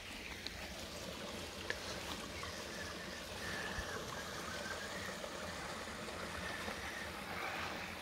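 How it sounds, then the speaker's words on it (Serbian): A mountain stream babbles steadily through a canyon, a continuous even wash of water at moderate distance with no voices. "žubor vode."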